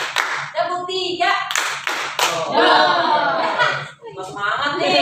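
A group claps hands and taps on tables in a counted rhythm pattern led by an instructor, with sharp close claps and taps mixed under steady talking and some chuckling.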